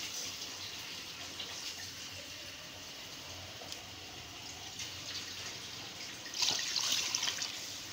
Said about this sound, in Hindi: पानी भी डाल दिया